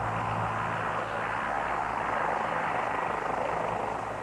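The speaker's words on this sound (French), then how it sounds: "Maintenant, la pilote doit réussir à poser l'aéronef sans train d'atterrissage." A helicopter hovers low for an emergency landing with its landing gear missing, its rotor and engine making a loud, steady roar throughout with no voices.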